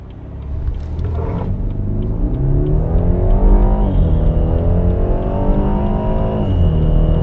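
A BMW 330i F30 accelerates hard from a standstill to 100 km/h, its engine note climbing steadily through several gears with brief dips at each shift, loud and close throughout.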